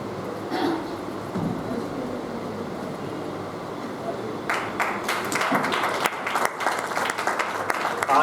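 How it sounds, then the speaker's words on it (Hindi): Audience applause at a literary festival, a broad steady patter that swells into louder, denser clapping in the second half, with crowd murmur underneath. "आधे मन से ताली मत बजाइए।"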